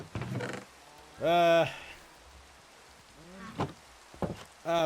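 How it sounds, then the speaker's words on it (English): Cows in the Minecraft video game give a few low, drawn-out moos, one loud and near, others shorter and softer, with quiet gaps between. "Come on, little cows."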